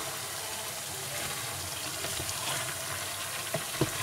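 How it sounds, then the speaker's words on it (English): Gizzard and rice fry together in a pan, giving a faint, steady hiss and crackle with a couple of small clinks near the end as the mixture is stirred. "We'll let everything fry together. I will stir it."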